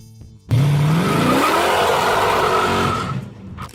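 A 1969 Dodge Charger Daytona engine bursts into a loud rev, pitch rising sharply then holding a strong sustained roar before easing off near the end.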